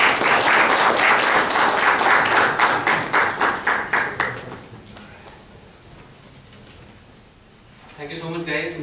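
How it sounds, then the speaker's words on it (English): Conference audience applause: a burst of clapping that rises quickly, holds for a few seconds, then thins into scattered claps and fades, followed by a speaking voice at the end. "Can we have a big round of applause for these guys?"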